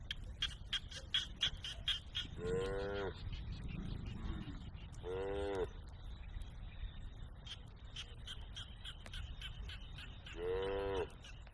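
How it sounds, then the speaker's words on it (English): Frogs chatter through a monsoon downpour in Siem Reap, a rapid stream of faint clicking pulses over steady rain hiss, broken by a few short bursts of nearby speech. "Highly doubt that I'll see any of these frogs, but it sounds so cool."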